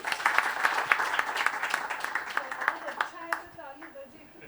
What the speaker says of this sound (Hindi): ये अच्छा लगा कि आप लोग मेरे जवाब पे भी ताली बजा रहे हैं। एक बार जोर से बजा दीजिए।